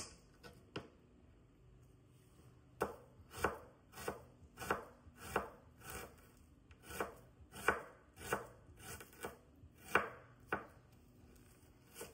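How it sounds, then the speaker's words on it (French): A knife finely slicing a shallot on a board, a steady run of crisp, evenly spaced chops close up, about a dozen strokes with short pauses between them. "Après avoir bien émincé l'échalote"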